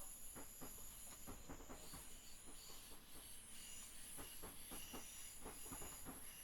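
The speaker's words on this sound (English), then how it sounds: "as we see a train coming by, it is the FIN Finsbury Park to Peterborough" A Finsbury Park to Peterborough passenger train passes on the East Coast Main Line in a train simulator game, a steady rhythmic clickety-clack of wheels over rail joints with a faint hiss throughout.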